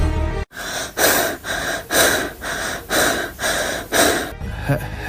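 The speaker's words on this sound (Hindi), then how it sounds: "सिर्फ सांसों की आवाज" Heavy breathing as a sound effect in a Hindi horror story: loud, close, rhythmic inhales and exhales, about eight breaths in steady succession, with no talk over them.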